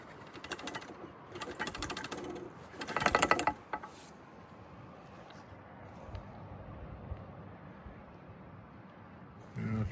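Earthquake shut-off valve on a 1-1/2 inch plumbing line being shaken, producing a quick metallic rattling in short bursts at first, then fading to faint background noise with a soft voice.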